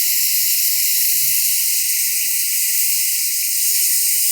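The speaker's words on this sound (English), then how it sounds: "I am adding my Szechuan completely." Szechuan sauce poured into a hot pan with chicken, giving a steady, loud, bright sizzling hiss that holds evenly throughout with no talking.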